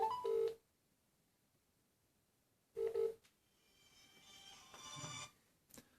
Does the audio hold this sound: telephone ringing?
yes